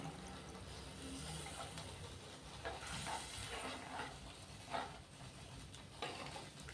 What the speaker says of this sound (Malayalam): ആവശ്യത്തിനുള്ള വെള്ളം ഒഴിച്ചു കൊടുക്കാം.